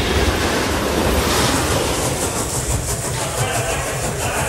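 A passenger train moves on rails near Edison station, producing a loud, steady roar of wheel and rail noise with a rushing, wind-like wash heard from inside the car.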